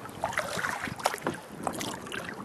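Kayak paddle strokes on water on a trapping line check, soft rhythmic splashes and drips close by, with light wind noise throughout.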